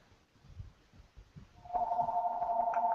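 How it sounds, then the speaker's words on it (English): A phone rings with a steady electronic tone that starts partway through, after soft low rumbling, and continues loudly to the end. "Sorry, my phone's ringing here."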